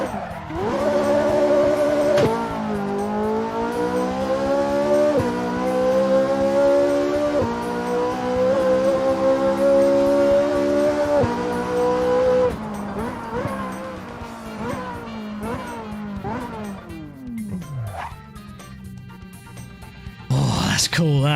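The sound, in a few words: race car engine and upshifts in the video game Assetto Corsa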